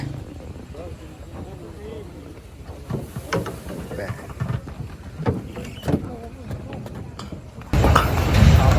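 A river ferry boat's engine rumbles beneath ongoing conversation, swelling into a loud, close churning roar near the end as the boat comes in to the ghat.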